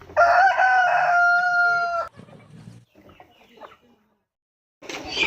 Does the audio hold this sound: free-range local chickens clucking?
yes